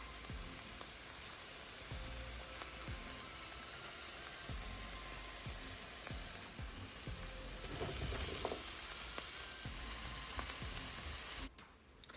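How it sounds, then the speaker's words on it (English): Thyme sizzles steadily in a hot pan for jerk pork pasta, with a constant crackling hiss and occasional soft clicks of stirring, close by and uninterrupted, cutting off abruptly at the end. "So just saute those a bit and leave it for about 2 minutes or so."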